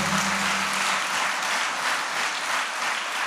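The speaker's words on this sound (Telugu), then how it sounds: "చప్పట్లు కొట్టండి, చప్పట్లు కొట్టండి గట్టిగా." During a Sunday church worship service, a congregation claps loudly and energetically, a thick, unbroken roar of hands with a faint low hum at the start, and no talking over it.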